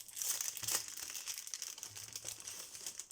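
A plastic pouch being opened up close, with quiet crinkling and rustling of the plastic in a few short bursts.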